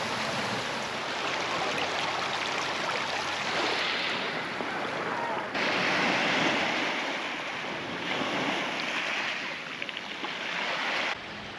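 Waves wash into a limestone cove on the Dorset coast near Weymouth and Poole, making a continuous rushing surf with swells rising and falling, mixed with some wind noise.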